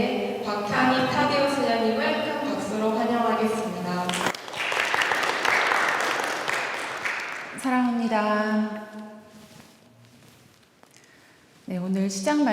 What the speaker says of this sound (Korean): 오늘 강의를 하여 주실 예수의 꽃동네 자매의 박향희 타데오 선생님을 큰 박수로 환영하겠습니다